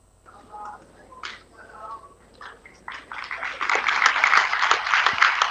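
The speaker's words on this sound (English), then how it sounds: "Tonnerre d'applaudissements." Applause at a special event with Israeli president Herzog at Ganenou, starting as scattered claps among voices and building into a loud, dense ovation over the last couple of seconds.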